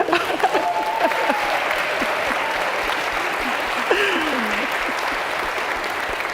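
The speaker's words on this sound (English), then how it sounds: "I wasn't fishing for applause" A congregation at a Unitarian Universalist fellowship breaks into warm applause, steady clapping at moderate loudness with a few whoops rising over it.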